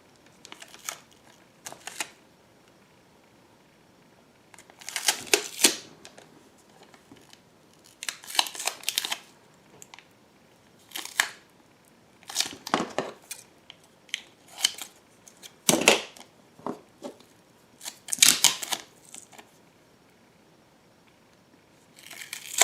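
Tyvek tape being pulled and wrapped around sockets, with intermittent crinkly tearing and rustling bursts spread irregularly over a quiet background, close and moderately loud, with no talking.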